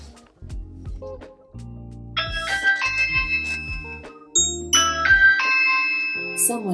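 A doorbell-press chime announced on an Amazon Echo Show 10 smart display linked to a Ring doorbell, heard as a couple of bright ding-dong tones ringing out over a low musical backdrop, close and clear.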